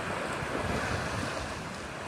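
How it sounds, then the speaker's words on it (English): Ocean waves wash steadily onto the beach at Folly Beach, South Carolina, a continuous close roar of surf mixed with gusting wind buffeting the microphone, with no voices. "That's the ocean right there."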